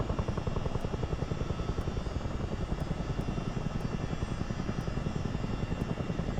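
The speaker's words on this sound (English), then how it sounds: "this is like the maximum sound volume that you can set for the rotor in the options" CH47 Chinook tandem-rotor helicopter in Microsoft Flight Simulator, rotor volume at its maximum setting: a loud, continuous rapid thudding rotor chop with a steady engine whine beneath and faint periodic ticks, with no talking.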